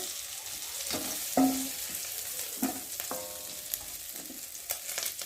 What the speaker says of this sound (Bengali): দেখো চিংড়ি মাছগুলো ভালো করে ভেজে নিয়েছি।